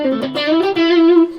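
An electric guitar played through a multi-effects unit rings out a sustained, harmonically rich note, with a touch of distortion and a reverberant tail.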